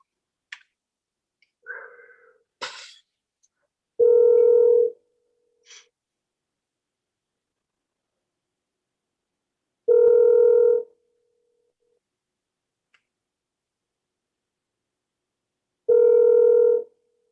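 An outgoing telephone call sounds as a few faint clicks and breaths of handling, then three evenly spaced ringback tones, each about a second long and separated by long silences.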